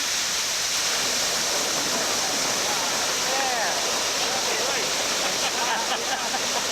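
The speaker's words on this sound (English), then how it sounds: "There's a gush of water coming down." Gush of water pouring down a gold-mining sluice in Alaska, a loud, continuous close-up roar with no break.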